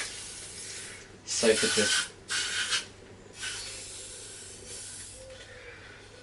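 WD-40 sprays from an aerosol can onto a rounded Phillips screw on a 1973 Honda PC50 moped, in two short close hissing bursts and a fainter third, with brief talk in between.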